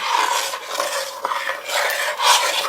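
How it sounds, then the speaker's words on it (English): A utensil scrapes and stirs strawberry jam with sugar in a pot, producing rough, gritty rasping strokes in a loose repeating rhythm, close and fairly loud with no talking. "Let me stir this a little bit."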